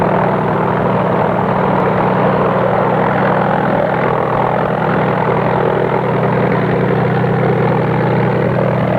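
The engine of a small mission medical plane drones loudly and continuously, a steady propeller hum with no breaks.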